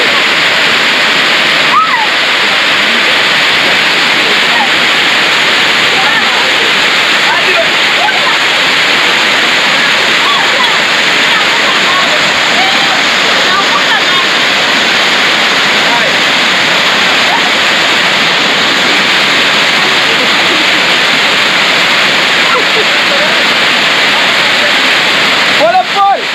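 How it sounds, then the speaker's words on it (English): A waterfall roars in a steady, loud, unbroken wash of water noise that fills the whole scene from start to finish. "Waterfall."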